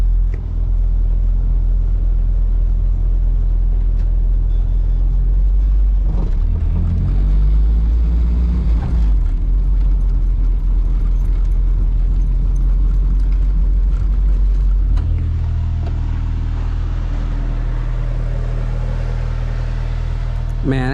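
A modified all-wheel-drive car with a turbo install driving up a boat ramp at a campsite, a loud, close, steady engine and road rumble that shifts midway, with speech mixed in.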